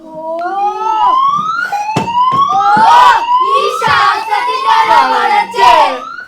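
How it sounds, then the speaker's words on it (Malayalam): Tsunami warning siren in a school science drama contest on stage, several rising, overlapping wails sweeping upward one after another, loud and close, with crowd noise and hand claps around them. "ഒരു സൈറൻ വഴിക്ക് നമ്മളെ അറിയിക്കും"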